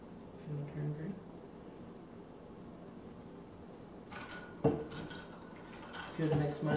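An Irish green cocktail topped with Red Bull is stirred in a glass, brief clinks and rattles of a spoon against glass among quiet room tone, with people talking softly at the start and end.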